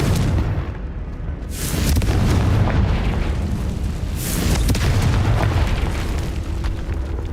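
Confringo blasting spells go off in Hogwarts Legacy, two heavy booming bursts a few seconds apart over a dense, rumbling game background.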